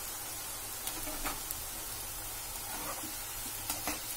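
Onion pakoda batter fries in hot oil with a faint, even sizzle broken by occasional small pops and crackles, heard alone at moderate distance.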